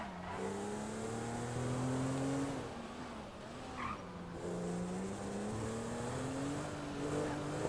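A car engine in GTA 5 with a real-life mod, droning steadily, its pitch climbing, dipping briefly and climbing again as it accelerates, moderately loud and continuous with no voices.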